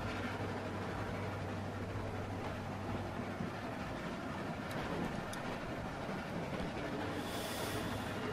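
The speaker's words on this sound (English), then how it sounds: "Stop the train." A train in The Walking Dead video game rumbles along continuously, a steady loud rolling roar with faint rail clicks and a hiss near the end, no speech.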